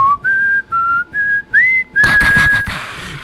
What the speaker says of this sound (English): I need to find some royalty free music for this intro,